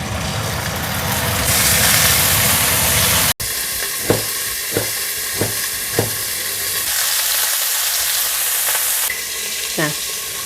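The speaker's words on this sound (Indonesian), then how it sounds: "kalau goreng ikan sedot asap harus nyala ya" Fish fries in hot oil with a steady, loud sizzling hiss while a kitchen extractor fan drones underneath. A few sharp clicks and taps of cooking utensils break through.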